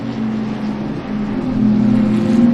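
Race cars, a Porsche and a Mazda Miata, battling on the Mid-Ohio Sports Car Course during a NASA Great Lakes event, their engines giving a steady loud drone that swells slightly as they close in.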